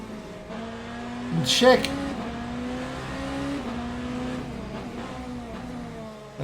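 Race car in a racing video game at the Circuit of the Americas national layout, engine droning and revving through repeated gear changes, steady and fairly loud under a commentator's voice.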